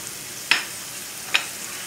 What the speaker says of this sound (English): So this is sauteing